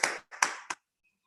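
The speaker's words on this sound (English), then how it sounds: "Let's have a big round of applause for all the contributors." Brief applause: three short bursts of clapping in just over a second, then silence.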